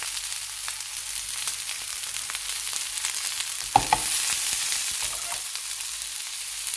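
Garlic for broccoli chutney sautés in a pan with a steady, close sizzle and crackle, broken by a couple of brief clinks from stirring around the middle.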